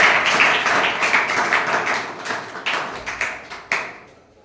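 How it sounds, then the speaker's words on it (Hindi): An audience at a village summer vacation camp event applauds to welcome the headmaster. Dense clapping fades over a few seconds into a handful of scattered, separate claps. "जोरदार तालियों से स्वागत करें।"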